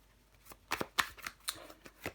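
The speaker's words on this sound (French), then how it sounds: "Je vais recouvrir les cartes pour vous les Sagittaires." Tarot cards shuffled and laid down on a table for a reading, a few soft papery slaps and shuffling flicks in an irregular rhythm, close and fairly quiet with no voices.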